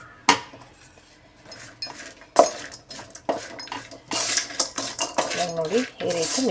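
A spoon clatters and scrapes against a metal pot while stirring a sweet urad dal dessert with coconut, in close, irregular bursts that grow busier and louder toward the end.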